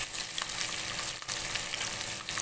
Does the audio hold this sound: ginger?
yes